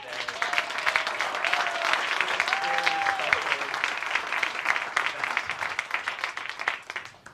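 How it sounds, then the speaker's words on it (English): Cinema audience applauds the staff, many hands clapping in a steady, full burst that carries on for several seconds, with faint voices calling out early on. "let's have a big round of applause for Barry and for the entire staff of the Trylon"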